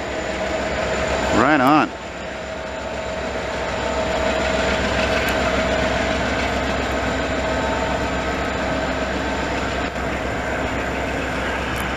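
Long CN freight train rolling past slowly during a Montreal snowstorm, a steady near rumble of wheels and cars with a short horn-like wail early on and a brief remark from a person nearby.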